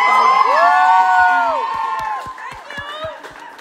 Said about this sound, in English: one round of applause only for our staff who is here